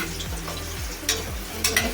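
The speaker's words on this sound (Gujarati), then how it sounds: "ઘડીક વાર એને આપણે તળાવવા દેવાના છે।" Muthiya dumplings frying in oil with asafoetida and turmeric, a continuous close sizzle broken by a few sharp scraping stirs against the pan, with no voices.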